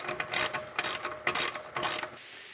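A hand ratchet clicks in four quick bursts, snugging oil filter relocation fittings on an oil pan during an LS1 engine swap into a 240SX, the sharp metallic ratcheting close and crisp with short pauses between strokes.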